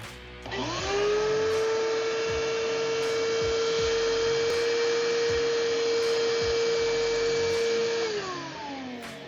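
A shop vacuum roars to life near and loud, climbs to a steady high whine, holds it for several seconds, then spins down at the end; it is being tested before hookup to a workshop dust collection system.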